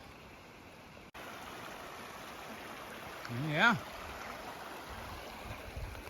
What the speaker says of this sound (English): I love a babbling creek.